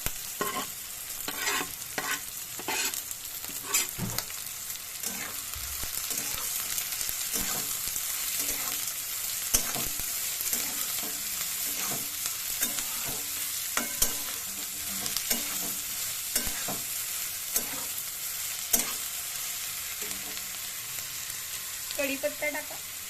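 Onion and green chilli frying in a pan, a steady broadband sizzle with repeated scraping stir strokes throughout, close and fairly loud, no voices.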